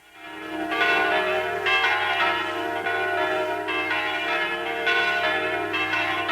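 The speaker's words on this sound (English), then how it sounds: "Those are the bells of the Church of the Holy Sepulchre in Jerusalem." Church bells of the Church of the Holy Sepulchre in Jerusalem on an old-time radio Christmas broadcast, repeated ringing strikes with long sustained resonant tones layered over one another.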